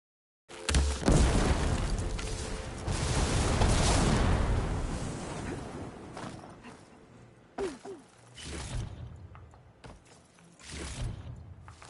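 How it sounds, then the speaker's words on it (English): Heavy booming explosions go off in the video game Horizon Forbidden West: a big sustained blast rumble that fades, then several sharper bursts and thumps with quieter gaps between them. "Gotta love explosions, it's just fun."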